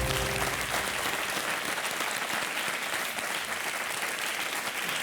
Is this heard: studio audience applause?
yes